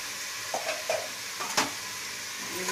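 Urad dal and spices fry in hot oil in a pan, with a soft continuous sizzle broken by a few close scraping stirs of the spatula, and no voices.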